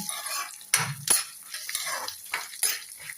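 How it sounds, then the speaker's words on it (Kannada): Garlic fried together with peanuts and chickpeas in a pan, giving a steady sizzle under a few sharp metal clinks of a spoon against the pan. "ಇವಾಗ ಬೆಳ್ಳುಳ್ಳಿ ಹಾಕ್ತಾ ಇದ್ದೀನಿ."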